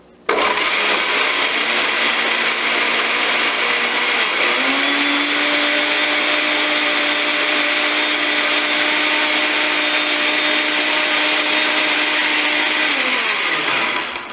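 A blender runs continuously at a high, steady whirr while blending a blueberry protein shake, the pitch settling lower after a few seconds and winding down at the end, loud and close with no talk.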